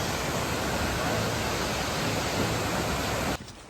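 Steady broadband roar of a waterfall at a backpacking spot, loud and unbroken close by, cutting off abruptly near the end.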